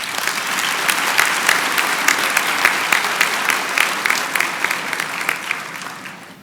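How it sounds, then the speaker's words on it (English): Sustained applause from a large convocation audience in a hall, dense even clapping with occasional sharper claps standing out, fading slightly at the end. "Let's give them a big round of applause."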